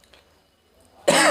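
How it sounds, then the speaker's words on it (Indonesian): One sharp, loud cough bursts out close by at the end, after near silence. "batuknya nggak mau kompromi."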